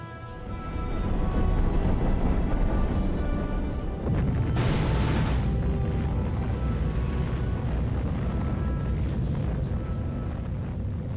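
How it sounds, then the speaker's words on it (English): A nuclear missile strike in Civilization 5 erupts into a long, deep, roaring rumble that swells and then holds as a sustained heavy blast with a brief hissing burst partway through. "A nuclear missile is going to take care of that modern armor"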